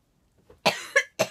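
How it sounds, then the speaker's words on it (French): Three sharp coughs come close together, close and fairly loud, with nobody talking. "À chaque fois que je mange un truc au chocolat ça me fait tousser."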